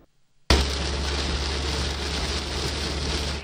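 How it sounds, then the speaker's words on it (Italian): Torrential rain from a violent cloudburst in the Treviso foothills, with hail in places, bursts in suddenly after near silence and becomes a loud, unbroken roar. "Pioggia torrenziale accompagnata in alcuni punti anche da grandine."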